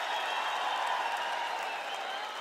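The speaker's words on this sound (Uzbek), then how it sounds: "Rasta, qarsak chalishinglar mumkin." Audience applause at a live stand-up comedy show fills the room as a steady, even wash of clapping with no breaks.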